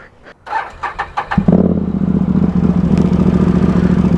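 A Can-Am side-by-side UTV engine cranks with a few clattering turns, then catches and settles into a loud, steady, throbbing idle close by.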